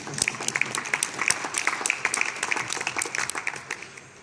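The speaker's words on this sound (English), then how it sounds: "That's an applause line, if you want to." Light applause from an audience at a press conference closing an International AIDS Conference, steady moderate clapping for a few seconds, fairly distant.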